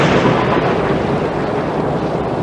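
Dense, steady rumble of a thunderstorm, loud and unbroken, with heavy low roaring and broad noise throughout and no voices.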